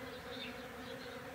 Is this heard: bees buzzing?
yes